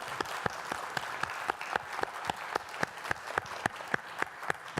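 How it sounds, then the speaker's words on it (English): Audience applause at a live presentation event, steady rapid clapping from a moderate-sized crowd, fairly faint and distant, holding at an even level throughout. "Applause."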